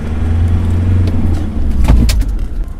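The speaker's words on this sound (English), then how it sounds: "you saw there that the vehicle slid and we lost control" A Land Rover brakes hard and slides on fresh snow, its engine rumbling loudly up close, with a brief scraping burst partway through as the tyres lose grip.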